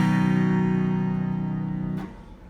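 A revival harpsichord sounds one deep bass note with its 16-foot and 8-foot stops coupled. The rich, buzzing tone holds for about two seconds and then is cut off by a soft damper thump. It is close and solo, with no talking.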